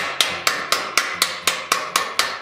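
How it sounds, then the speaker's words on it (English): A ball peen hammer planishes soft aluminum sheet for a mask, striking eight times in a steady, even rhythm, each blow a sharp close metallic tap with a short ringing decay. "is hundreds of overlapping hammer blows on aluminum"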